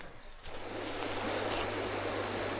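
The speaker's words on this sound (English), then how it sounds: "Definitely hearing some water." A stream in the Malvern Hills runs with a steady, broad rush of water that swells after a quieter first half-second and holds at moderate loudness, with no voices.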